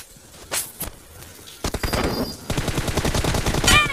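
Gunfire in a mobile shooting game match, rapid bursts of automatic shots that grow denser and louder toward the end, with a few scattered single shots early on.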